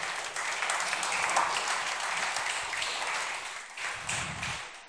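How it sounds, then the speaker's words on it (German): Audience clapping at a cannabis convention award ceremony, a sustained wash of many hands applauding steadily for several seconds, moderately loud and roomy, tapering slightly toward the end. "Klatschen genau, wenn ihr wollt,"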